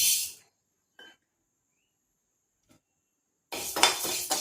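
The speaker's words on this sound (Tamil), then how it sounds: "பாசிப்பருப்பு கொஞ்சம் வறுத்துக்குவோம்." A short sizzle and clatter in a pan, a faint clink, then a burst of stirring and scraping as moong dal is dry-roasted, close by with no talking.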